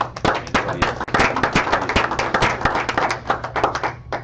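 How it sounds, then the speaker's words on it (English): An audience gives a round of applause at a presentation event, with brisk, dense clapping close by that carries on steadily, and some voices come through underneath. "why don't you guys give a big applause for that?"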